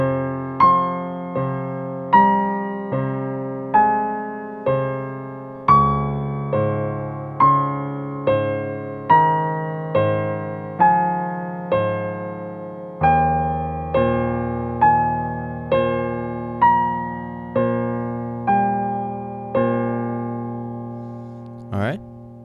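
Solo piano plays the chorus of a piano piece, a steady rocking pattern of repeated notes over shifting bass chords, each note decaying evenly, with no voices.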